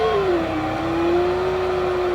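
Engine of a Western Sergal convertible in a driving game, accelerating with a steady, smoothly rising drone that holds loud and continuous, with no talk over it.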